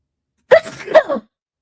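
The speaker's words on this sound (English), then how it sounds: "I gotta sneeze." A single person's allergy sneeze, close and loud, comes as a quick two-part burst, a sharp inhale-like onset followed by the forceful release, then silence.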